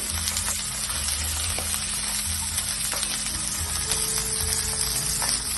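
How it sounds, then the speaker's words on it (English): Salmon fries skin-side down in a pan, giving a steady close sizzle with soft crackles and occasional low rhythmic knocks beneath, and no one talking. "You want to cook the salmon about 2 to 3 minutes on each side."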